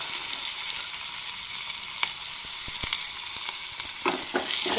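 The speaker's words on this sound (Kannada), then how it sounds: "ಸ್ವಲ್ಪ ಈರುಳ್ಳಿ ಫ್ರೈ ಮಾಡೋಣ." Chopped onions sizzle steadily in a hot pan for a spinach and yogurt bajji, a dense, even frying hiss with a few light scrapes and taps from stirring near the end.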